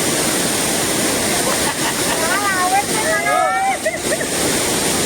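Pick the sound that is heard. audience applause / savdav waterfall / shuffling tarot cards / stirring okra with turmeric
savdav waterfall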